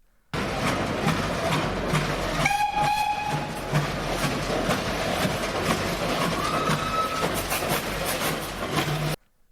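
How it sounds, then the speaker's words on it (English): A working replica of Richard Trevithick's Puffing Devil steam road locomotive runs loudly and steadily close by, its churning, hissing roar broken by a brief shrill steam whistle blast. "what a remake of this vehicle, named Puffing Devil, looks and sounds like"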